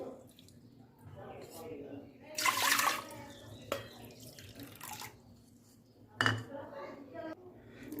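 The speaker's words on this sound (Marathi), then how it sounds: "आपण बरोबर दहा वाट्या पाणी घेऊया याच्यामध्ये" Bowlfuls of water tipped into a metal pot for rice papad, two splashing pours with clinks of the bowl against the rim, under a person talking steadily throughout.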